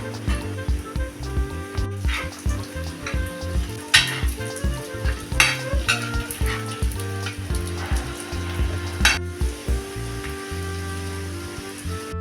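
Wheat flour snack pieces frying in oil in a pan over low flame, with a steady soft sizzle and occasional spatula taps, heard under music.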